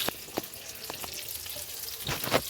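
Chicken pakora frying in oil gives a faint, close sizzle with a few short stirring clicks over a couple of seconds; no voices.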